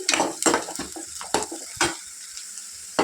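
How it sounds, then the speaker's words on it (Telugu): Onions frying with turmeric in a pan for an egg tomato curry, stirred with a utensil: a steady sizzle broken by several scraping, clanking stirs in the first half, then a quieter sizzle alone. "ఆనియన్స్ కొద్దిగా కలర్ చేంజ్ అయ్యేంత వరకు బాగా ఫ్రై చేసుకోవాలి."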